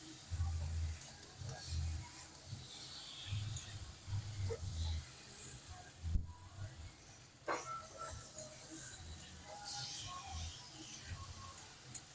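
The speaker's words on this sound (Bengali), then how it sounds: "তোমরা সবাই দেখো আমি কিভাবে কষছি এঁচোরটাকে সব মশলা দিয়ে" Jackfruit cooked down with spices in a wok over raised heat, giving a steady low sizzle with intermittent scraping and stirring knocks throughout, fairly close and moderately loud.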